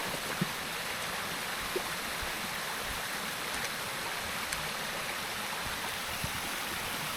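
Blairskaith Linn waterfall and its stream rapids pour in a steady, dense broadband rush, close and constant, with faint splashes and no voices.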